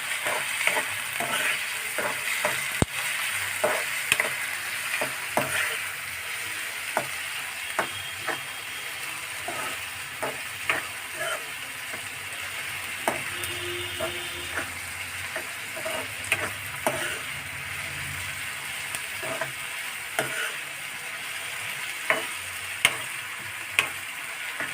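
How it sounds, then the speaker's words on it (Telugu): Onions fry in a pan with a constant soft sizzle and hiss, punctuated by regular scraping stirs of a spoon, close and moderately quiet, without talking. "ఇప్పుడు ఉల్లిపాయలు బాగా కొంచెం మధ్య వరకు వేయించుకుందాం."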